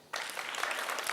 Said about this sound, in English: A round of applause for Lucas, please.